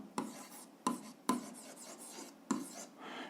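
A pen scratches on paper while working a seventh-grade algebra equation: four short, close strokes, with quiet pauses between them and no talking.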